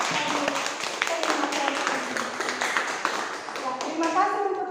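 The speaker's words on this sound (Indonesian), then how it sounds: "Kita tepuk tangan memberikan" A school class claps hands together, a dense, continuous patter of many hands at close range, with children's voices mixed in over the clapping.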